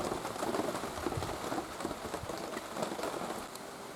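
Rain pattering steadily outdoors during a pork shashlik barbecue, a close dense patter of drops on surfaces with no talking.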